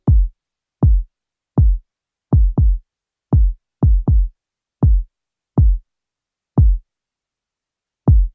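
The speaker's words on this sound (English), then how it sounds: "So the kick drum in this record on its own sounds like this." A low-end kick drum sample plays alone, with about a dozen short, deep, punchy thumps. They fall in an uneven, syncopated pattern with silence between hits.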